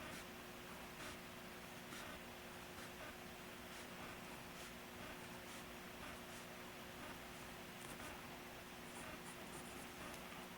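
A pencil scratches on paper while a manga lace-up boot is drawn by hand, giving soft, faint, continuous strokes with a few brief louder taps against a quiet hum.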